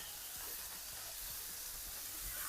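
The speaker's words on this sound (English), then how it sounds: "you can apply this steam right under the crust" Steam hisses steadily under a pizza crust on a Blackstone griddle, a continuous broad sizzle with low crackling pops, close and even throughout, with no voices.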